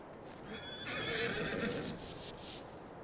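A horse in Farming Simulator 22 gives one clear, drawn-out whinny that rises and wavers for about two seconds over a low, quiet background.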